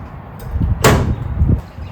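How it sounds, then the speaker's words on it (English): A door is pushed shut with a single sharp, close thud and a brief rattle, set against low background rumble outdoors near a smoker. "Shut the door."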